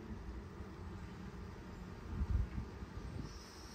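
A low, steady buzzing hum of many black honeybees on the comb, close by and fairly quiet, with a slight swell in the middle.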